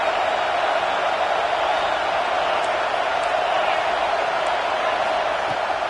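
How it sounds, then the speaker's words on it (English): Stadium crowd at an NCAA college football video game, a steady loud roar of cheering that fills the whole stretch with no breaks, with a commentator talking over it. "This crowd rising up, sensing that its defense needs some help."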